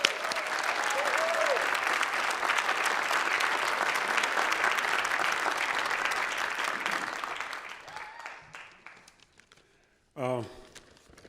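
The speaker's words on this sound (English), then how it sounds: "Please give him a round of applause." Loud, sustained applause fills a hall at the 36th Annual City of Destiny Awards as the 2022 Youth Development honoree is welcomed. It fades after about eight seconds, and a single voice then begins speaking at a microphone.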